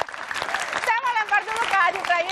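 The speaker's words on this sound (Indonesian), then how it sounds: "Oke, tepuk tangan dulu dong" Studio audience applause on an Indonesian political talk show, a light patter of clapping running under a prominent speaking voice.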